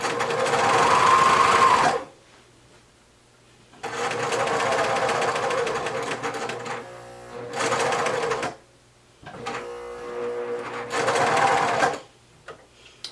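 A sewing machine stitches a pink rib knit tee in repeated bursts of rapid, close, steady whirring, with short quiet pauses between runs.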